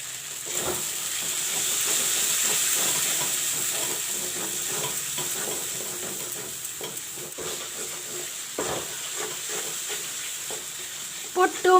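Dhania and chili powder fry in a pan with a steady high sizzle and hiss, broken by light stirring clatters, close up.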